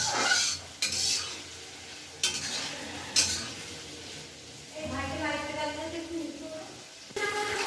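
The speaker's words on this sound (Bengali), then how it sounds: "পেঁয়াজটা এবার লাল লাল করে ভেজে নেবে" Onions frying in a pan until reddened, a soft sizzle with intermittent spatula stirs and metallic clinks against the pan, and a voice speaking over parts of it.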